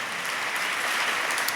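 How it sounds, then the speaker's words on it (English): An audience claps steadily throughout at a live church talk, a dense, even patter of many hands with no voices over it. "thank you so much for clapping."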